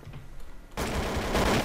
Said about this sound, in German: Irgendwo wird geschossen.